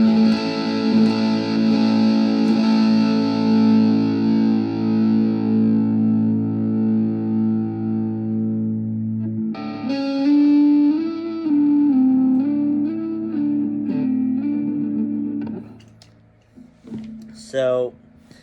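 An electric guitar driven through a Barber Electronics Five Watt World BUSS distortion pedal on its left distortion setting, neck pickup, rings out in a long sustained chord, then a busy distorted lead phrase with bends, ending in a quick descending run.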